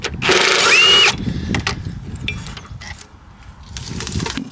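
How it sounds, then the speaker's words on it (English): An impact gun spinning out a 12mm bolt on a car during carbon canister removal, in one loud whirring burst of about a second. Softer clanks and tool handling noises follow close by. "on my impact gun, this is just a 12mm, and so we're going to rip this out"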